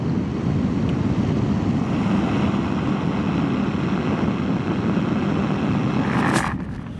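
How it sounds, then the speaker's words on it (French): Steady roaring wind blast through a Cardo intercom headset on a motorcycle at speed, a dense, loud rush that stays constant before easing slightly near the end. "je sais pas si vous m'avez entendu en fait avec le bruit de la soufflerie"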